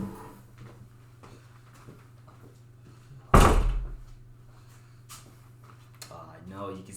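A door makes a single loud thump partway through, surrounded by quiet indoor room tone and faint shuffling.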